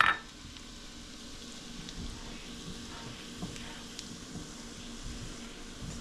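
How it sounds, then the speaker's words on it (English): Garlic toasting in a hot pan with the heat switched off, giving a faint, steady sizzle that carries on alone after a brief louder sputter at the start. "Toast that garlic up and bring out its flavor."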